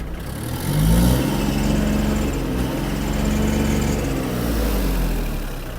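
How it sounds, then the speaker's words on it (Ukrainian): An Iseki TG-31 Japanese mini tractor engine runs close by with a steady throbbing drone, rising in a revving surge early on and swelling again midway before easing back to idle. "Ось така робота двигуна."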